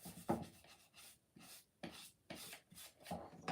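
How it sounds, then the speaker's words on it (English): Light hand sanding of a painted wooden riser, a series of soft rasping strokes in irregular rhythm, close and quiet with short pauses between passes. "we're going to give it a light sanding"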